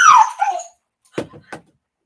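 A dog whimpers with a high, whining cry up front, then falls quiet before two short, soft yips or whines, close by and alone.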